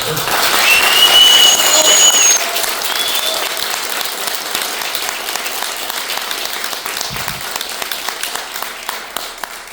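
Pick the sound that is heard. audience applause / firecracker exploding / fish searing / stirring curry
audience applause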